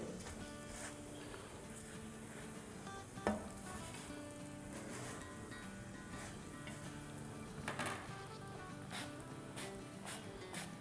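An aloo roti fries in oil on a griddle with a soft, constant sizzle and faint crackle, plus a couple of brief clicks or taps, at low volume throughout.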